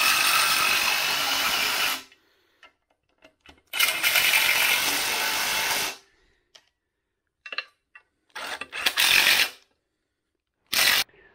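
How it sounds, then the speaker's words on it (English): A ratchet tightens clutch cover bolts on a Mk3 Ford Cortina engine in a workshop, heard as two sustained bursts of close clicking ratcheting, then short scattered clicks and taps with quiet gaps between. "I used a 19 on the front crank pulley bolt so that I could tighten up the clutch cover bolts as well."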